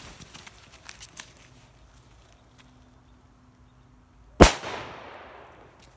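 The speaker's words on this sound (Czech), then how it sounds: "Ty vole. Dobrá. Exploziv 3." A Czech "Exploziv 3" firecracker goes off outdoors with a single sharp, loud bang about two-thirds of the way in, followed by a short fading rumble; before it, only quiet ambient noise and a faint low hum.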